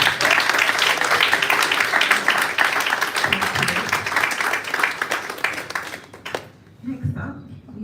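An audience at a writers' cohort finale gives a loud, sustained round of applause that runs for about six seconds, then cuts off abruptly and leaves faint room noise.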